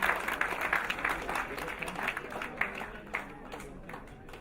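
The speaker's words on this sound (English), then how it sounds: "I want a big round of applause for all the alumni" Applause for alumni at a silver jubilee felicitation of a PGDM insurance business management programme, a fairly quiet, steady patter of clapping from a hall audience with some crowd murmur mixed in.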